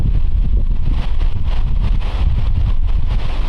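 Steady outdoor wind buffets the microphone near a waterfall area, a loud, rough rumble with gusty fluctuations and no talking.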